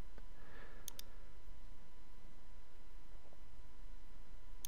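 A few sharp, faint clicks from a computer mouse sound in a quiet room, spaced irregularly over a low background hiss.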